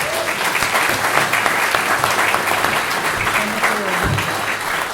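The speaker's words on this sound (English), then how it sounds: "We might show our gratitude with a warm round of applause" An audience gives a warm, sustained round of applause after a talk on the stories and tunes of north Clare, dense and loud clapping filling the room for several seconds, with a brief voice under it.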